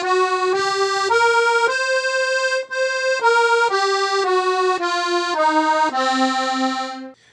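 A piano accordion plays the C blues scale, one sustained reedy note after another in a steady line, loud and close, closing on a held low note.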